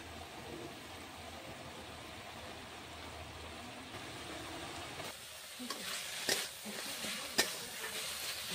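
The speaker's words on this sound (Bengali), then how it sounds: "একটু টিপে টিপে খুন্তি চালিয়ে একটু দেখে নিতে হবে, চালাতে থাকতে হবে।" Bathua greens fry in a pan while a spatula stirs and presses them, producing a steady soft sizzle with a few sharper scraping clicks toward the end, fairly quiet and without talk.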